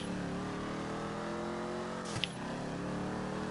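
A Mustang drag car launches off its 2-step with steady loud engine drone, then a sharp pop and a rising rev as it pulls away, no voices present.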